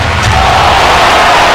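A packed arena crowd at an NLL indoor lacrosse game roars to urge on the Portland Lumberjax defense, a loud, dense, continuous wash of cheering.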